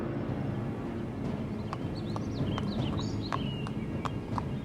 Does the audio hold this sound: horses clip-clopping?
yes